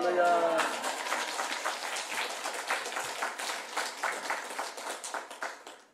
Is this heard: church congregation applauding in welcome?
yes